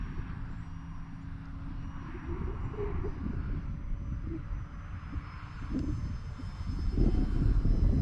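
A Vmar VStick RC model airplane buzzes overhead in steady flight, its small engine droning at a moderate distance with slight swells as it passes, outdoors with faint background noise.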